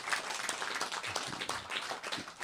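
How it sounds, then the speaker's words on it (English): An audience in a temple gives a dense round of clapping, steady and fairly close, with no voice over it. "Give a big round of applause to him."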